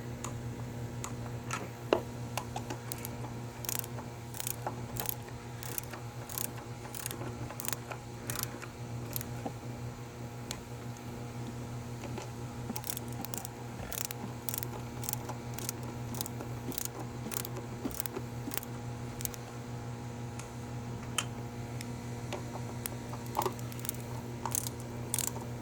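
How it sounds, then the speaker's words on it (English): Water pump bolts on a 2013 Lincoln MKS 3.7-liter engine are tightened to 89 inch-pounds, giving a steady series of faint, rapid ratchet ticks in repeated runs over a constant low hum. "we're going to start the center, just start tightening these to 89 inch-pounds"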